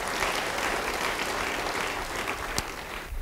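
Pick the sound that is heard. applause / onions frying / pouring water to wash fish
applause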